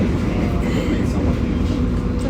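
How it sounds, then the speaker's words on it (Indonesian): Steady low rumble and rushing noise inside a moving passenger train, a continuous loud drone filling the space with faint rattling and no clear voices. "Lagi di kereta."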